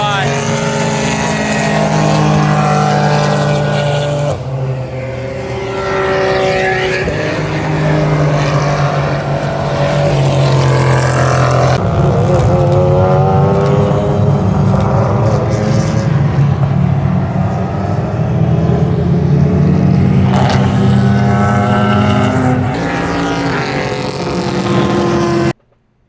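Race cars in an eight-hour endurance race roaring past one after another, loud engine notes rising and falling as they pass, with wind buffeting the microphone and a voice talking over the noise.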